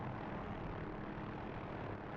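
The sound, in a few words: OH-6A helicopter flying in the DCS flight simulator game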